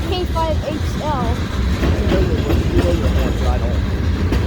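A CSX freight train led by a five-unit lashup of EMD diesel locomotives rolls past nearby, a loud, steady rumble with wheel clatter and squeal throughout, while faint voices and chirping birds sit underneath.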